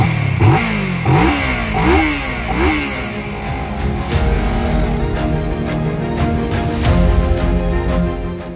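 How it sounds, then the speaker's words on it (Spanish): A water-powered motorcycle with an electrolysis system starts up with several sharp revving bursts, then settles into a loud, steady, clattering engine run close by. "El contacto se pone en marcha el equipo de electrólisis y en unos segundos más tarde ya podemos arrancar el motor"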